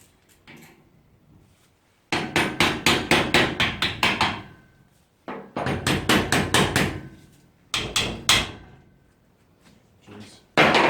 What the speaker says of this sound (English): Magic hammer to the rescue.